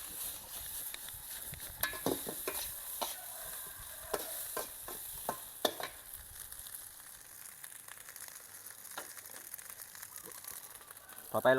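Egg fried rice stir-fried in a hot wok with kale, sliced shallots and tomato, giving a steady sizzle with repeated scraping and tossing strikes in the first half, then a softer continuous fry.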